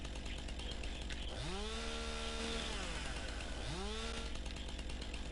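A chainsaw in a video game cutting through a fence, revving up twice in rising, buzzing bursts over a steady engine drone.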